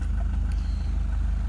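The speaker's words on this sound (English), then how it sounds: "what's that rattling around" A Toyota Prado engine idles with a rattle, giving a loud, close, steady low rumble with even pulsing throughout and no talk.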